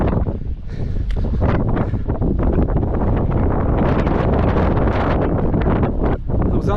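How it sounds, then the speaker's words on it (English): Strong, steady wind buffets the microphone with a continuous roaring rush throughout. "Windy and cool."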